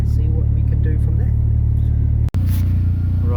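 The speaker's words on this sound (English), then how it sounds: "I'll drive to the dyno shop now" Car driving on the road toward a dyno shop after a boost issue fix, with a steady low engine rumble and road noise under talk, and a brief cut partway through.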